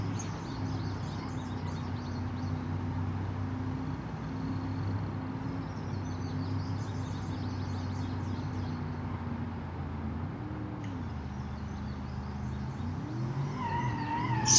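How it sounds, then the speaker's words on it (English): In the BeamNG driving game, a torquey car accelerates and spins its tires, a steady engine drone with rising and falling pitch sweeps near the end, moderately loud and without talk. "So torquey when you push your foot down. Ooh, it will spin the tires easily."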